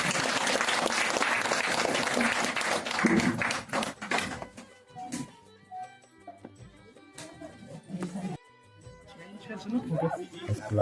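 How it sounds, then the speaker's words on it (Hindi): Applause from the audience at a retirement farewell ceremony for a schoolteacher, a dense wash of clapping for the first few seconds that thins into scattered claps and voices, then swells again near the end. "तालियों के साथ"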